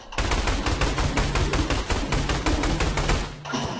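Rapid pistol shots fire nonstop in the dinosaur-hunting game Orion Dino Horde, a loud, tightly packed volley of cracks lasting over three seconds before cutting off abruptly.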